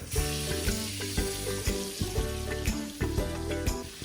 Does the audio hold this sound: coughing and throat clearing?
no